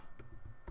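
Computer keyboard keys are pressed for a cut shortcut in three quick, close clicks within under a second, the last one loudest, over a quiet room hum.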